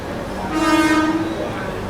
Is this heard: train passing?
yes